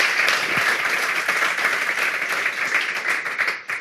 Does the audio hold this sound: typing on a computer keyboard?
no